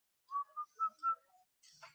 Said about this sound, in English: Maybe we'll whistle a little bit.